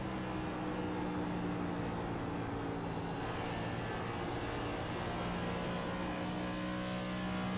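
A race car engine in the iRacing video game, a Cup Series race at Charlotte, drones continuously at a steady pitch with a constant hum, loud and sustained, with no talking.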